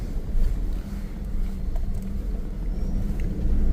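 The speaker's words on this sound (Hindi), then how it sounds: "ये ढाल है। फर्स्ट गियर लगा लेता हूँ" A car driving slowly downhill in first gear on a snowy road near Rumbak village in Hemis National Park, Ladakh, giving a steady low engine rumble mixed with wind noise.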